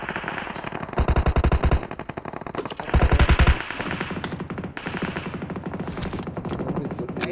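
Automatic weapon fire in the BGMI mobile battle royale game comes in two loud rapid bursts, each around half a second long, followed by scattered distant single shots and short volleys.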